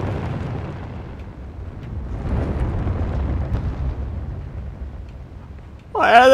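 Fire roaring and rumbling through the dark world of the video game Limbo, a loud, continuous low crackling wash that swells and churns, ending in a sudden sharp burst.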